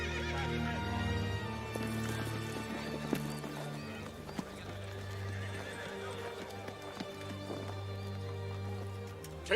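A horse in a medieval fantasy army camp neighs and whinnies while its hooves clip-clop steadily, mixed with dramatic orchestral music and other camp noise, with a sharp thump near the end.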